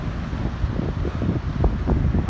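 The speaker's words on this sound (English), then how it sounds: "it's windy and cold" Strong cold wind at Big Wave Bay, Hong Kong, buffets the microphone in a low, gusty roar, steady and close throughout.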